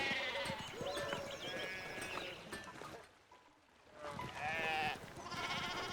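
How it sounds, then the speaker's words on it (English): Several sheep bleat over and over in the video game Pentiment, their wavering cries overlapping loudly before a short lull, then the flock starts calling again. "I saw a lot of sheep."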